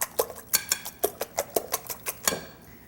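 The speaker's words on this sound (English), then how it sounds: "Let's give this a good little whisk." A whisk clinks rapidly against a bowl as eggs are beaten with tarragon, minced chives and chervil, about a dozen sharp, evenly spaced metallic taps, close and clear with no talking.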